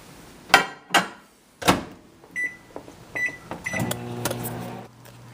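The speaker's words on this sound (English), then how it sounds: "I'm just going to throw it in the microwave for 30 seconds." A few sharp clunks of a microwave door and buttons, then beeps and a low steady hum as the oven starts running, close by.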